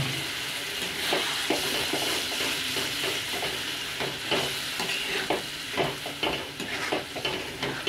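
Potato, pea and prawn curry simmers and sizzles steadily in a pan with a little water added, a constant close bubbling hiss with soft stirring scrapes.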